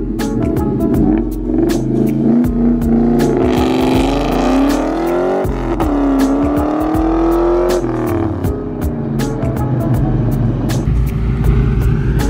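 A built Ford Mustang on a drag test run roars loudly and close, its engine note climbing through revs, dropping at a gear shift, then rising again with rough rumbling and crackle, no talk.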